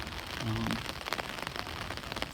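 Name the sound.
rain falling at a funeral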